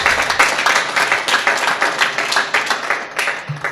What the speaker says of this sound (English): Let's give a big applause to our experts.